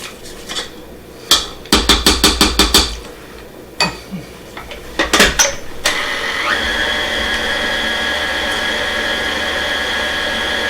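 An electric mixer beats pumpkin cake batter. It starts after a run of sharp knocks and taps on the bowl, then runs as a steady, fairly loud whir through the rest, with no voices.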